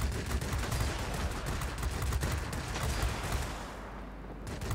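Aircraft machine guns in World of Warplanes fire in a loud, continuous rattling burst that lasts several seconds and tapers slightly at the end, with no talk over it.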